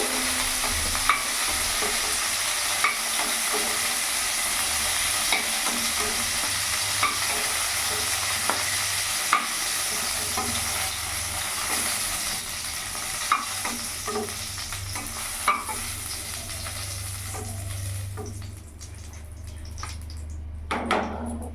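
Cauliflower pieces frying in hot oil, giving a continuous soft sizzle with regular light clinks of a spatula stirring; near the end the frying quiets and a few louder scrapes and knocks follow.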